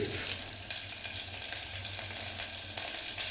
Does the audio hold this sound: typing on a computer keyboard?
no